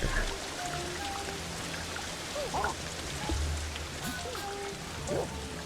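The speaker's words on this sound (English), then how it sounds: "It's raining, it's cold" Steady rain patters across the ground in the prehistoric survival game Ancestors: The Humankind Odyssey, a dense continuous hiss with occasional faint chirps and a low rumble underneath, no voices.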